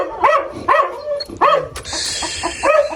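A dog on a farm barks at a group of chickens. There are several sharp barks in quick succession at close range, with soft clucking from the birds between and after the barks.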